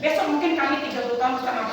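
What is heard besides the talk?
None of the usual background noises is heard.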